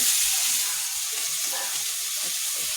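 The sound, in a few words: tengra fish and potatoes sizzling while being sautéed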